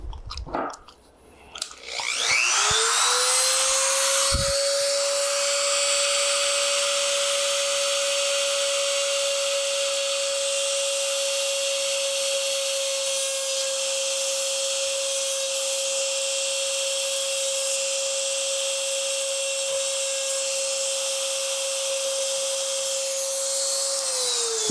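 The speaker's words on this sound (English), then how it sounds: "who says you can't be precise with a die grinder, man?" A die grinder works on a part from an 1876 Springfield trapdoor rifle, spinning up after a brief start and holding a loud, steady high-pitched whine for over twenty seconds without pause.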